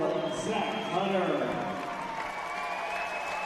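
Applause from a crowd at a college men's basketball game between Dixie State and Holy Names as the seniors come out, steady clapping and cheering under an announcer's talk.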